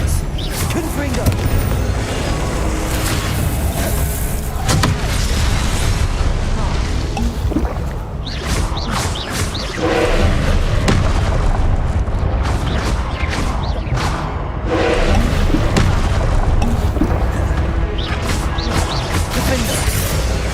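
Confringo blast spells explode repeatedly in Hogwarts Legacy, a dense barrage of loud booming crashes and magical impacts layered over continuous game effects and music, with no letup across the whole stretch.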